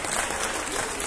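Audience applause for a pageant candidate at the election and crowning of the Flor de la Feria in Concepción, a steady dense clatter of clapping hands throughout, fairly loud and continuous with no pauses.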